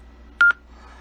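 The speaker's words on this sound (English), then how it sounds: "I can now press the pound key and hold it." A single DTMF keypad tone from pressing and holding the pound key on a Yaesu FTM-100DR radio while in Wires-X mode, one loud steady beep of about a tenth of a second over a quiet background hum.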